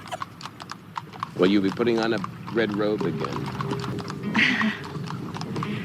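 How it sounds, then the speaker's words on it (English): Horse hooves clip-clop steadily as a horse pulls a buggy in old news footage, with a faint whinny partway through; the hoofbeats run under a conversation between people. "Sheela is being driven around in a horse and buggy for this interview"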